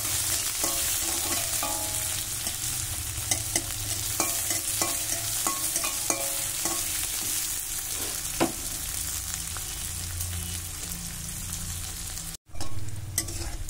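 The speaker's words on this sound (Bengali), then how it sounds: "এবার দিয়ে দিলাম পেঁয়াজ কুচিটা। পেঁয়াজটা একটু ভেজে নেব।" Chopped onions sizzle steadily in a hot pan of oil, a dense close crackle lasting throughout, punctuated by scraping stirs and clinks of a utensil, with no voices.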